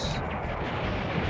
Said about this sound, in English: these explosions killing everyone